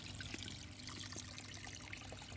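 Water trickles and pours steadily over a toy car from a bath-toy waterfall in a bathtub, a continuous close splashing stream without talk.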